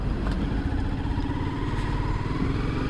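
A motorcycle on a long solo ride on rough hill roads toward Darjeeling, its engine droning loudly and steadily close by with a continuous rumble and wind noise.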